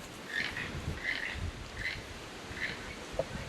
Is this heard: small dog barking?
no